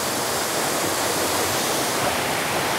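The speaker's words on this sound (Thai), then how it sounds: "ตอนนี้เรามาถึงที่น้ำตกแล้วนะคะเป็นน้ำตกลับๆนะคะ" Hidden forest waterfall at Mae Sai in Chiang Dao, Thailand, roaring as a dense, constant wash of falling water, loud and close with no voices.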